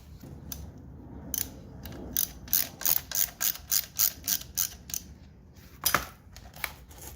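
A hand ratchet clicks in quick, crisp bursts, loosening the oil drain bolt on a Suzuki RM125 dirt bike, close and clear, with short pauses between strokes and no talking.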